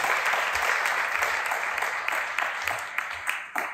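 An audience applauds during a live-streamed French talk on ChatGPT plugins, with steady, fairly close clapping that holds for several seconds and thins out toward the end.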